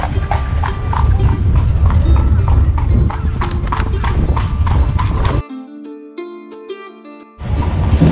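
Horse hooves clip-clop steadily on the street as a carriage carries riders through Dublin, loud and close with a brief tonal interlude before the rhythmic hoofbeats resume.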